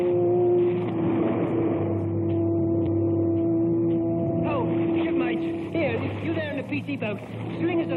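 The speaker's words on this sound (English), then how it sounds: "PT boat." A PT boat engine drones steadily at a low pitch, nearby and constant, while people talk and shout over it toward the end.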